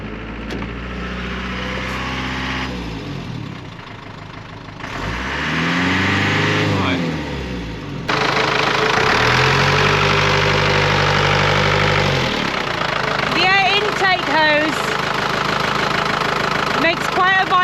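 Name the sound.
camper van engine running, vibrating, possible air intake hose fault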